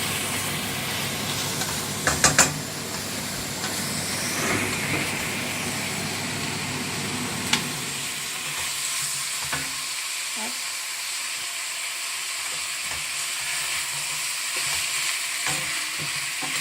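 Veal pieces brown in a frying pan with a steady close sizzle. A few light clinks come early on, and the hiss thins a little partway through as the frying settles.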